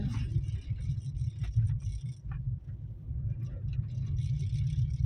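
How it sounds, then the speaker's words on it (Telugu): Vehicles pass on a village road, a faint continuous low engine rumble from traffic moving by at a distance, with a few light clicks and knocks on top. "చూడండి ఎలా వస్తున్నాయి వెహికల్స్"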